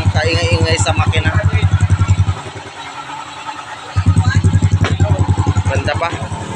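A restored Raider J motorcycle engine idling close by after a full rebuild with a replaced camshaft, rocker arms and piston, a rapid steady putter that briefly drops away and then returns, with someone talking over it.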